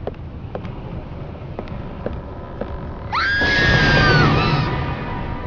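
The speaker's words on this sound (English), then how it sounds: "that scream came from the room behind this door" In the video game Black Sails, a muffled scream rises from the room behind a door, a wavering, drawn-out cry lasting about a second and a half over a dim, creaking ambient background.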